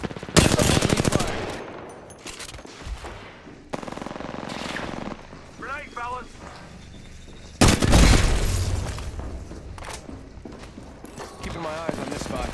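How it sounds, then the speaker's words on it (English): Grenade blasts and rapid gunfire in Apex Legends, with sharp bursts of automatic fire and booming impacts close by, separated by quieter stretches with in-game voice lines. "Grenade fellas."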